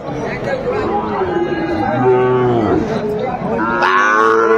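Sahiwal cattle at a busy cattle market let out drawn-out moos, close and loud, over a crowd chattering and bargaining in the background.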